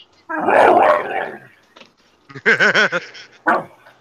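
A pet dog barks in a busy home, a loud rough burst followed by a run of several quick, close, sharp barks and a final yelp, with chaotic room noise around them.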